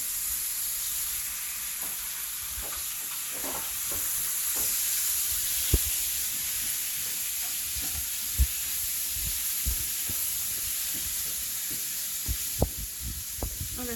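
Meat sizzles steadily in a pan with sautéed onion seasoned with salt and pepper, a bright continuous hiss with soft pops and occasional knocks of stirring, close up and without talk.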